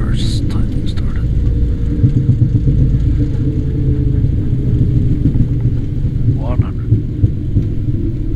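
Boeing 737 engines in idle reverse thrust after landing, a loud, steady low rumble heard from inside the cockpit, with brief radio chatter and tones over it.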